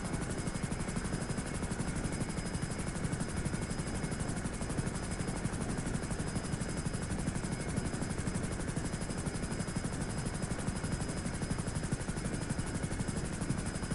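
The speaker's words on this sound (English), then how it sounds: "It's the fastest helicopter in the game." A fast helicopter in GTA Online roars steadily with a dense, constant rotor and engine wash that never lets up, loud and close for the whole stretch, with no talking over it.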